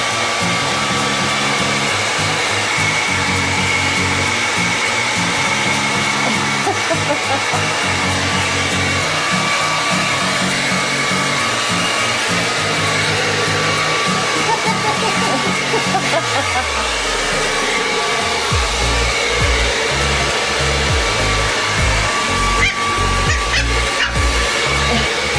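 A blow dryer runs loudly and continuously close by, its steady whirring drone shifting in pitch as it is moved, while voices talk and a puppy's barks break in over it.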